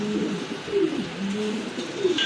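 Pigeons for sale cluster together, cooing in a steady, close, throaty murmur of overlapping low calls that runs unbroken, with no one speaking.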